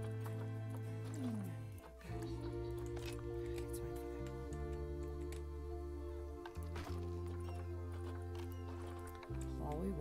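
Przewalski's horses in the zoo-building video game Planet Zoo, with hoof clip-clops and an occasional whinny sounding steadily under continuous, sustained background game music.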